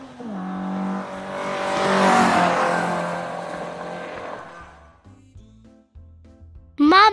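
A cartoon car in an animated storybook read-aloud drives off with a loud rising engine whine and tire noise that swells then fades away, followed by brief quiet tones and a short high squeak at the end.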